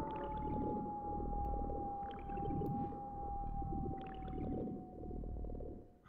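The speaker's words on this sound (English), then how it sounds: "And that's the call of a planet we can hear" Eerie planet call heard in the Lifestream of the Final Fantasy VII video game, a faint, low whale-like drone with a steady held tone and slow swelling rumbles, distant and wordless.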